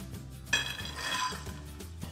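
Sweet roasted peanuts tumble into a glass bowl, a short burst of light clinking and rattling that starts suddenly and then settles, set against a quiet kitchen background.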